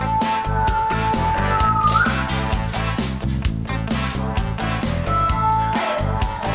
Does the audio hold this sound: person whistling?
yes